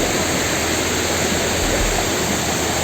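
A river at a hiking rest area in a bamboo forest on the Mount Raung trail roars as a loud, steady rush of water, a dense unbroken wash of sound with no voices over it.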